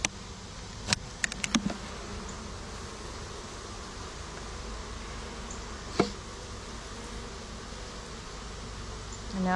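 Honey bees hum steadily around a late-blooming backyard hive in cool morning shade, a low, even drone carrying throughout, broken by a few sharp knocks and clicks near the start and once midway.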